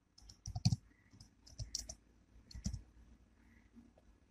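Keys clicking on a computer keyboard in short irregular bursts as text is typed, close and fairly quiet with no talking.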